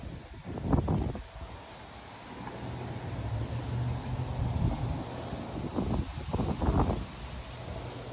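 Wind gusting outdoors around a Halloween haunted house yard, a steady broadband rush with two louder buffeting swells near the start and end, close to the microphone.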